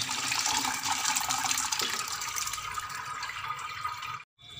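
Water draining from soaked sago through a sieve, a close, steady trickling and splashing that softens partway through and then briefly cuts out.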